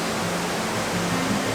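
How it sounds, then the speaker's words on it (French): A large waterfall about 60 metres high in Laos roars as a loud, steady broadband rush of falling water with no pauses and no voices. "Une grande cascade d'environ 60 mètres."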